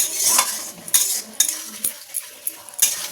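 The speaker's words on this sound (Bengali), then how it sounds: "টমেটো এইসব দিয়েই করবো। মশলা দিয়ে দিলাম। এবার ভালো করে কষিয়ে নেব।" Tomatoes with cumin, ginger, green chili and spices stirred in a pan, a utensil scraping and clinking against the metal in sharp, irregular strokes over a faint sizzle, with no talk.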